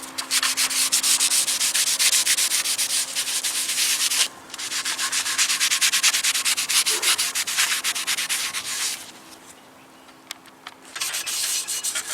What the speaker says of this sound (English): Now we'll take an old Scotch Brite, just prep the surface, get it scuffed up,